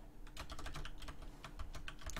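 Computer keyboard keys clatter in a fast, irregular stream of close, crisp clicks and taps as the keyboard is cleaned, continuing steadily throughout with no voices.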